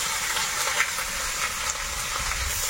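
Green chillies go into hot frying spices with salt, turmeric and chilli powder, giving a loud, steady, close hiss and sizzle with no talk over it.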